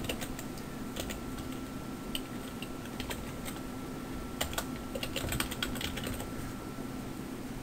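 Someone types an email address on a computer keyboard, a close, steady run of light key clicks with irregular spacing and a few sharper taps, over a faint constant background hum with no voices.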